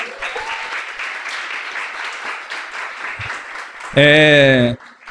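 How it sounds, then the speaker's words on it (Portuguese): An audience at a lecture on Christianity and Brazilian culture claps for the incoming speaker, a steady mid-level round of applause, then a loud, brief tonal voice or shout bursts over it near the end. "Salva de palmas para ele, por favor."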